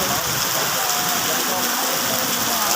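Steady rain pours down, a dense, even hiss of drops on surfaces, close and continuous with no break.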